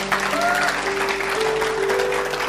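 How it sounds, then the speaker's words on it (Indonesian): Audience applause at an Indonesian religious talk, a steady wash of clapping over a sustained tonal hum, moderately loud and continuous throughout. "Tepuk tangan buat Tuhan."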